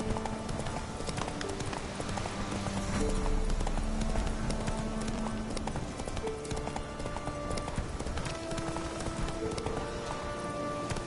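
Roach, a horse in The Witcher 3 video game, gallops with steady rhythmic clip-clop hoofbeats over a background game music score, fairly close and continuous throughout.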